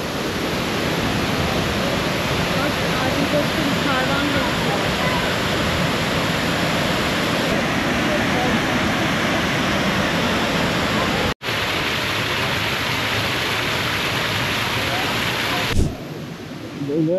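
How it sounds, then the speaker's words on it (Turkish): Big waterfall in Da Lat, Vietnam, pouring down as a loud, constant roar of rushing water, with a brief drop-out partway through and a short bump near the end. "Böyle aşağı doğru devam ediyor şelale."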